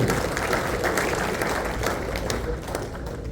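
An audience at a meetup claps together to welcome Roy Mathew's team, a dense, fairly loud round of applause that carries on steadily and eases slightly toward the end.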